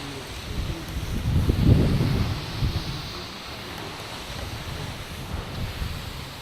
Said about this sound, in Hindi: फाइनली पहुँच गए हम मांकड़ वाटरफॉल देख सकते हो।